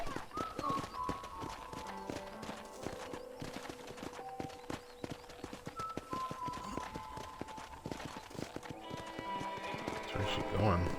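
Horse hooves clip-clopping at a run in the Western video game Red Dead Redemption, steady rapid beats with a whinny, under ongoing character dialogue and game music.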